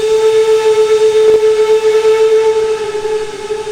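The steady whistle of a V&T Baldwin 4-4-0 steam locomotive in the train simulator Trainz 2019, sounding as one sustained, bright tone for nearly four seconds over a low rumbling background.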